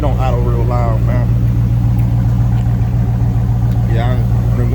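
A Dodge Magnum SRT8 engine that has sat too long idles low and steady, a continuous deep rumble running throughout while people talk nearby.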